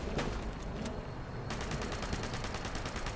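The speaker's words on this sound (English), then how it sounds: "he's firing at me" Enemy gunfire in Fallout 76, a dense rapid burst of automatic shots crackling steadily for several seconds, loud and close, with a brief pause before the firing resumes.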